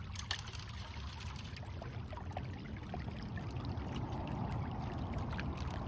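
Water runs off a gold sluice in a continuous soft splashing trickle, faint and unbroken, with no voices over it.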